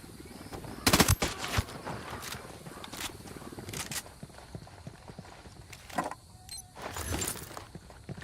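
Gunfire from Ghost Recon Wildlands: several sharp, loud bursts of shots, with a cluster near the start, another in the middle and a final volley near the end, set over a steady background of ambient noise.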